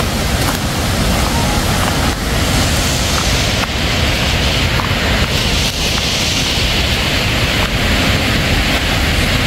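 The Chuveirão waterfall, a loud, dense, continuous roar of rushing and falling water heard up close, steady from start to finish with no break and no voices.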